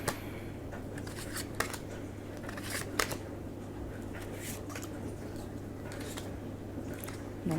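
Soft papery slides and light taps of tarot cards being laid down and shuffled on a table, quiet and close, with a steady low hum underneath.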